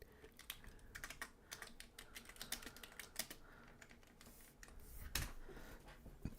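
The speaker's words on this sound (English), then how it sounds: "I'm typing" Fingers type quickly on a computer keyboard, rapid irregular key clicks with short pauses and a heavier thump near the end, quiet and close with no talking.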